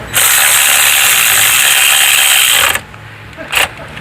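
Ratchet wrench cross-tightening fuel injector bolts, a loud continuous clicking run for nearly three seconds that stops abruptly, followed by one brief short burst of ratcheting.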